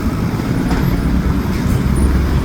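Dense road traffic on a busy stretch with no signal lights, a steady loud rumble of car, bus and motorcycle engines rolling past close by, with no talking.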